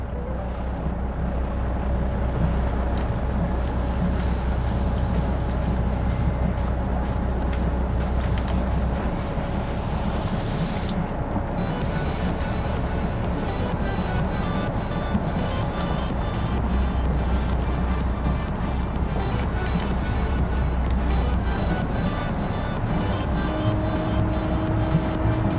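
A 29-foot Beaver picnic launch motoring away from a dock, its engine giving a steady low drone with a thrusting surge partway through and water wash around the hull, with no voices.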